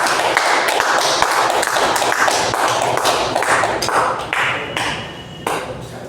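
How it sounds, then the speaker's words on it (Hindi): Loud, close clapping from a seated audience welcoming a leader onto the stage at a business plan event, dense rhythmic claps that thin out toward the end. "अपने अपने जगह पर बैठे बैठे एक जोरदार तालियां बजाकर स्वागत करेंगे"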